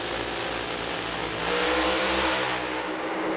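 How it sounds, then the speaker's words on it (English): A powerful Top Alcohol Funny Car drag racing engine idles loudly at the start line, then its revs climb into a harsh roar, with a steady low rumble throughout. "Listen for the revs to rise."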